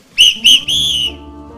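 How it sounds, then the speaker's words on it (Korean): A shrill whistle is blown nearby at a political anniversary ceremony, two short sharp blasts and then one longer blast, loud and piercing with no voices. "이 호루라기로 다시 한번 경고를 보냅니다"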